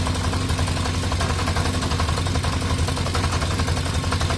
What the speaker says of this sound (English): It's always got a touch of that clutch rattle